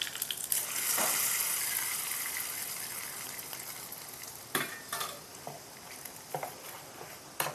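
Sizzling mustard-seed and curry-leaf tempering poured into a coconut chutney, a loud hiss and gush at first that fades, then several sharp scraping stirs, heard close with no talk.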